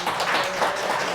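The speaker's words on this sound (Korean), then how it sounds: "이 대목에서 박수를 치는군요." A temple audience at a Buddhist dharma talk bursts into brief, dense clapping, a fairly loud wash of many hands with no voices over it.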